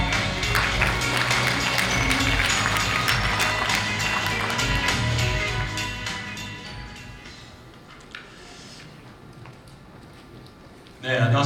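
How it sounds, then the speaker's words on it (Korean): A conference audience applauds to welcome a speaker at an international drone sports and entertainment conference. The dense clapping holds strong for about six seconds, then fades away into quiet. "큰 박수로 맞아주시기 바랍니다."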